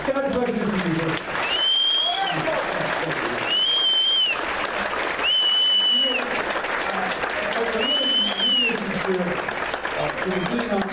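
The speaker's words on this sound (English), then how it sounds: "so we can give you an appropriate round of applause" An audience at a Berks County Patriots gathering applauds veterans with loud, sustained clapping and crowd noise. Several rising whistles cut through the clapping at intervals, and some voices can be heard within it.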